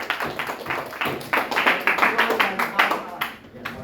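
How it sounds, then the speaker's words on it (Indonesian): Clapping in a classroom, a quick run of rhythmic, fairly close claps lasting a few seconds, with voices talking over them. "Kasih tepuk tangan buat Juan dan kawan-kawan."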